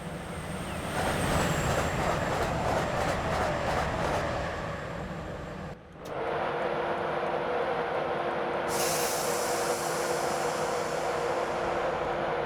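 A Class 91 electric locomotive pulling away from Alnmouth station in a rail simulation, its steady mechanical drone and hum building with rhythmic clicks, then a brief dip before a louder, even motor whine carries on with no talk.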